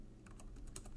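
A few soft, quick key taps on a computer keyboard, including a press of the enter key while working in SPSS, quiet and close against faint room noise.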